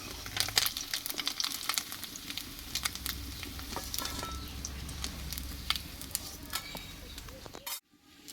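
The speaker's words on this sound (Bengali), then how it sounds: "এখানে মাছটা কিন্তু আমার সম্পূর্ণ ভাজা হয়ে গেছে মাছটা দেখো একদম ভেঙে যায়নি এই মাছটা আমি তেল থেকে তুলে নেবো" Small fish frying in hot oil, making a steady crackling sizzle with scattered sharp pops that stops abruptly near the end.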